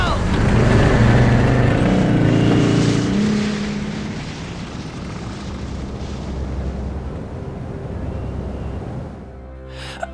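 Snowmobile engine in the Resident Evil Code Veronica X video game, a loud steady motor roar that swells early then settles into a sustained drone before cutting off near the end, with music or voices mixed in.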